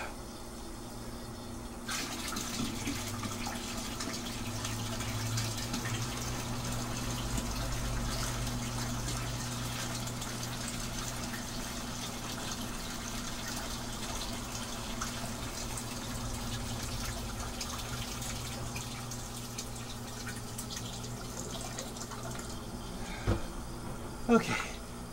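Water pumped into a 15-gallon home fish tank, a steady continuous rushing gush that runs throughout at moderate, close level, with a brief clatter near the end and no talk over it.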